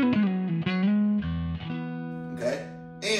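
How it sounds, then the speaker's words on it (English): Electric guitar with the humbucker neck pickup split for a single-coil Strat tone, played through a Quilter Superblock amp, a few clean sustained notes and chords ringing out up close. "I also have the humbucker neck split right now. So I'm going for like a nice single coil Strat E sound."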